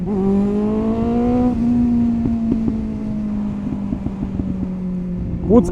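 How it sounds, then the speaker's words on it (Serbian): A motorcycle ridden through Belgrade streets hums steadily as the revs fall, with a scatter of sharp popping crackles from the exhaust on the overrun and a louder burst near the end, against wind noise. "Pucka motor"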